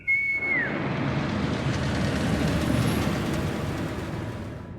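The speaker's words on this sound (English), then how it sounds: "You get to ride the train." A steam train whistle gives a short falling blast, then a steady loud rumble of the train rolling along the track carries on through a ride in the video game Hogwarts Legacy.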